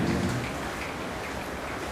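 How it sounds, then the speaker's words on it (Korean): Steady rain pours down on a surface, a continuous dense hiss of drops with a low rumble underneath, even and unbroken throughout with no voices. "이 빗소리 오시느라고 수고 많으셨습니다"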